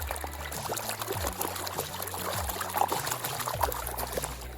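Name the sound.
gold pan shaken side to side with water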